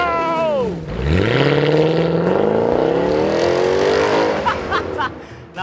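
A Mercedes C63 AMG with a 6.2-litre V8 revs up hard after a brief drop, its loud deep engine note climbing steadily in pitch through the gears, close and dominant with no talk over it.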